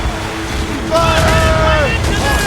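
Ship cannons firing in the naval battle of Assassin's Creed Rogue, a booming blast with rumbling wind and water noise amid crew shouting, loud and close.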